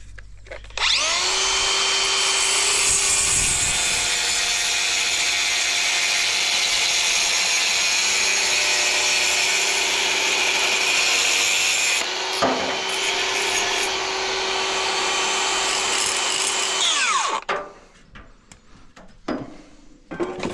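A power tool cutting a brick slip for facing over exterior wall insulation, a loud, steady grinding whine that holds for about sixteen seconds and then spins down, followed by faint handling noises.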